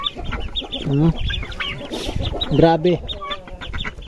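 Very tame chicks and their mother hen cluck and peep in a backyard pen while being fed, with short bright calls scattered over nearby talking throughout.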